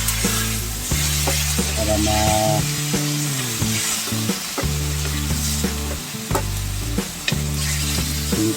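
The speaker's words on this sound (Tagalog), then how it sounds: "Haluin na natin ito" Chicken stofado sizzles loudly in a pan while being stirred, with continuous frying hiss and scraping stir strokes, a low tonal hum running beneath, and a brief spoken word near the start.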